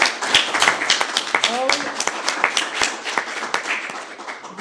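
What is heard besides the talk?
crowd applauding at a strike rally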